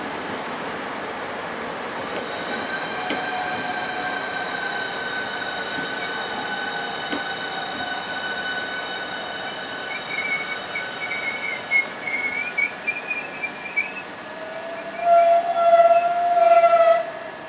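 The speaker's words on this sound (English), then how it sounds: "Now the 12:28 service to Margate is now departing." A Class 395 train pulls out of Ramsgate station bound for Margate, with steady tonal electric whine, clicks and clatter of wheels, and a rising high squeal from the wheels near the end, heard fairly close and without talk.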